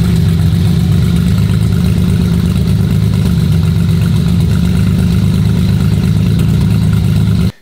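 An Audi RS4 saloon with a 2.0 engine conversion runs on a stand in a workshop, holding a steady, loud, close idle drone without revving before cutting off abruptly at the end.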